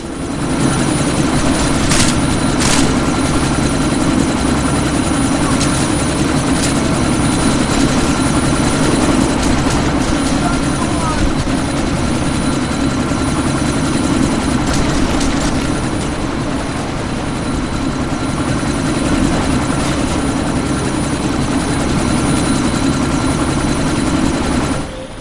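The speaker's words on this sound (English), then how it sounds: "That chopper's about to take off!" A helicopter in the video game Deus Ex: Mankind Divided, sitting just before takeoff, roars with a steady rotor and engine drone that stays loud and continuous throughout, with no voices.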